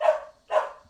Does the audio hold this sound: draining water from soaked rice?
no